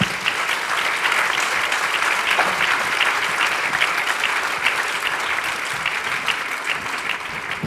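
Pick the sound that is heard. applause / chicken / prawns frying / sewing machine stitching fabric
applause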